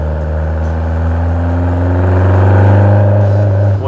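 A Caterham Seven 1700 Super Sprint with its side-exit exhaust: a loud, close engine drone with strong steady harmonics, holding and building slightly in pitch before easing off at the end, without talk.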